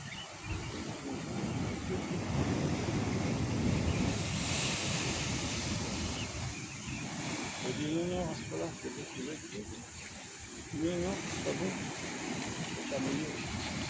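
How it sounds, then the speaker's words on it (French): Surf washes and breaks steadily at a rocky sea gully in Étang-Salé, Réunion, with a broad roar of waves and gusty wind over the microphone; voices speak briefly in the background. "Les méchantes vagues."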